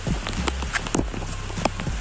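Rain falls during an outdoor football game in sunshine, a steady patter of drops with scattered sharper taps and soft thuds throughout, close and moderately loud with no talk.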